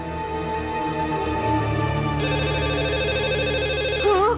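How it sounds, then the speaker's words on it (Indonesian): A telephone ringing indoors, a steady electronic ringtone with layered tones that keeps sounding, loud and close, over faint background sound from a football match on TV. "Kalau sudah nonton bola sampai nggak dengar suara telepon."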